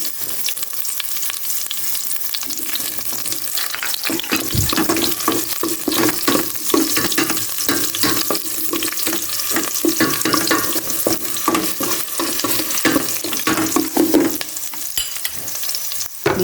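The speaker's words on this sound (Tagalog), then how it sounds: "Gisa-gisa lang natin maigi." Garlic and onion sautéing in a pan in a new home kitchen: continuous loud sizzling and frying with scraping stirring sounds throughout, close up, no talk.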